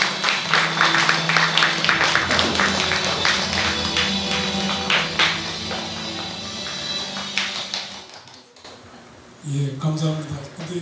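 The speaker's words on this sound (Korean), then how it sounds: "힘찬 박수 부탁드립니다." Audience at a Buddhist book-launch ceremony applauding loudly with dense clapping that fades out, followed by a voice beginning to speak.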